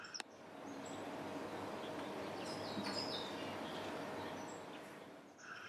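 In Cocobeach, Gabon, a weaver bird gives faint, scattered chirps while foraging near nests, over a steady rustling background.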